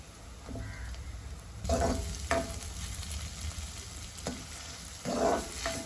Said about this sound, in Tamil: உள்ளி கொஞ்சம் வதங்கட்டும்.